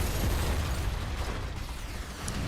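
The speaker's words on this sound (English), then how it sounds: "the sounds of machine gun fire, grenades, and cannon blasts wash over the Elmo" Machine gun fire, grenades and cannon blasts in a video game battle, a dense, continuous rumble of distant explosions and bursts without a break, with no voices.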